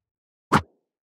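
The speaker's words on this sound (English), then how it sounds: "And I just got the jump sound." A single short, dry thump with a soft noisy attack and quick decay, a layered video game jump effect without processing, with silence before and after.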